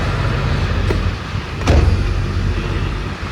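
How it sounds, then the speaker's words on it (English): The exhaust of a Ford F350 Powerstroke 7.3L pickup with a muffler delete rumbles steadily at close range with a deep low drone, rising briefly in loudness partway through before settling back. "with the muffler delete, I love how it sounds"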